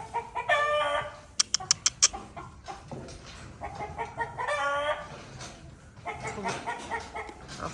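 Hens cluck and squawk close by in irregular bursts, with a rooster's calls and a few sharp knocking sounds mixed in.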